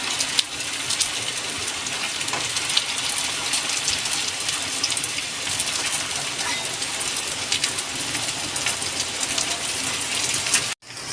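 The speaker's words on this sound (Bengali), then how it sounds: "তাবায় তেল দিয়ে দিয়েছি চিকেন চিরাক ভাজার জন্য" Dense, steady sizzling of chicken frying in oil on a griddle, hissing loudly and close throughout before cutting off abruptly at the end.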